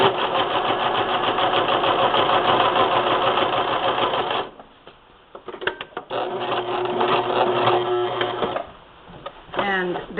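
A sewing machine stitching a spool knit rug runs in a loud, rapid mechanical whir for about four seconds, stops, then starts again in shorter uneven bursts with clicks and a brief pause near the end.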